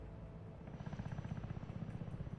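A helicopter in the real-time strategy game Broken Arrow approaches as a low, rhythmic rotor thumping that grows slightly stronger, faint and steady, with no voices.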